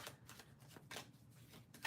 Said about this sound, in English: Let me just shuffle the other deck so I can pull 2 decks from 2 decks.